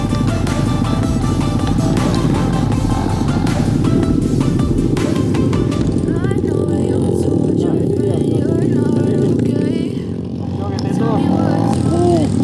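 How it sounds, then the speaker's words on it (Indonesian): A motorcycle engine drones steadily throughout, loud and close, with a rider's voice talking over it and wind noise in the background. "Motornya baik dan kita lanjutkan kembali perjalanan menuju ke Parangloe"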